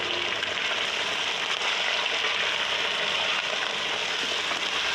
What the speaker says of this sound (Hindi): चिकन डालकर अच्छे से फ्राई करेंगे चिकन को भी।